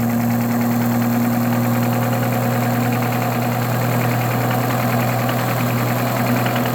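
An Olds 4-4-2 W-30 distributor turns on a Sun test machine at 620 RPM, giving a steady, loud mechanical drone with a constant low hum that holds evenly throughout, with no talking.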